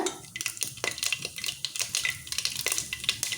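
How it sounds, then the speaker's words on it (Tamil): Mustard seeds crackle and sizzle in hot oil in a kadai, with dense popping and frying noise and occasional utensil stirring scrapes, close and steady with no talking. "ஒரு கடையில் எண்ணெயை ஊற்றிக்கிட்டு கடுகு தாளிச்சிக்கோங்க"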